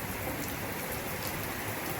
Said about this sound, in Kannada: ಈ ದಿನ ಶುಕ್ರವಾರ ಸಂಜೆ 7:30 ಗಂಟೆಗೆ ನಿರಂತರವಾಗಿ ಮಳೆ ಸುರಿಲಿಕ್ಕೆ ಆರಂಭವಾಗಿದೆ.